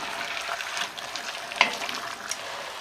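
Beef stew with beer simmering in a pot after two ladles of broth are added, a steady soft sizzle with light bubbling and an occasional small clink.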